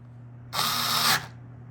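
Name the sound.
Hychika cordless drill driving a screw with Phillips 2 bit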